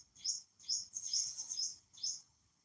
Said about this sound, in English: I think it's the little blackbirds that look like hummingbirds.